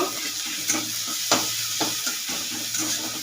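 Garlic fries in oil in a pan for Bengali lentil and greens cooking, a steady close sizzle broken by several spatula scrapes and taps.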